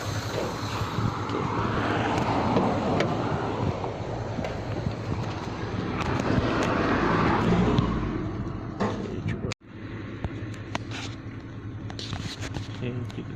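A Proton Waja with an MMC engine and a replaced auto idle valve idles with the air conditioning on, giving a steady droning hum that briefly dips partway through, with talk over it.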